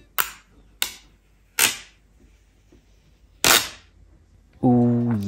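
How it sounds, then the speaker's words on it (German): Protective front film peeled off a Samsung Galaxy S23 Ultra, a few sharp crackling tearing bursts separated by quiet pauses, close and clear, followed by a brief voice. "Entfernen wir die Frontfolie und jetzt bitte absolute Stille."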